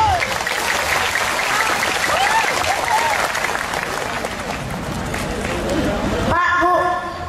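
Applause from an audience at an Islamic sermon by a child preacher, dense clapping filling the room steadily for several seconds, with voices and crowd noise mixed in.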